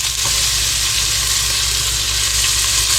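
Vegetables frying in melted fat in a pan for German potato salad, a loud, steady, close sizzle with a constant hiss throughout and no talk.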